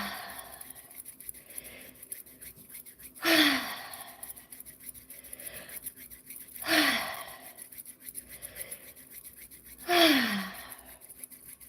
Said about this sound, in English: Why don't we do just a little bit of deep breathing while we do this?